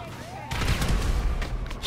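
Gunfire in the Grand Theft Auto 5 video game bursts in loudly after a quiet start, a dense volley of shots and booms continuing to the end, with a voice talking over it.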